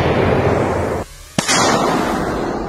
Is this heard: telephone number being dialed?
no